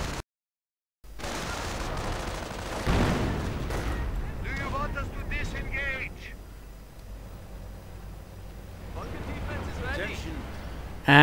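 Wartime strategy game battle with booming artillery fire and explosions blasting craters, heavy detonations rumbling amid scattered gunfire while a commentator talks over the action.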